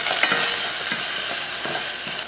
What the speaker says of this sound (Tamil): ரசம் தாளிக்கிறதுக்கு எண்ணெய் ஊற்றிடலாம். கொஞ்சம் கடுகு, கொஞ்சம் கருவேப்பிலை, 2 வரமிளகாய்